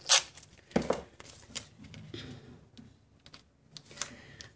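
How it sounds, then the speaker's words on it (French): Masking tape is pulled and pressed down, a sharp tearing rip at the start followed by scattered crinkly sticking sounds and small taps, close by. "Je suis désolée si ça fait vraiment trop de bruit le scotch"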